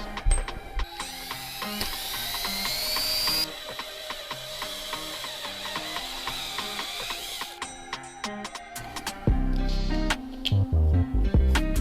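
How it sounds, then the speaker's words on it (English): A step drill bit grinds continuously through metal, its motor whirring with rattling, ratcheting chatter, shifting pitch as it bites deeper, with heavier knocks near the end. "This step drill bit should get right in there."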